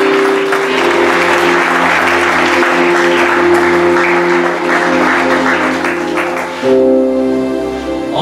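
A church congregation claps loudly and steadily in sustained applause, a dense wash of hands over a held organ or keyboard chord that shifts near the end.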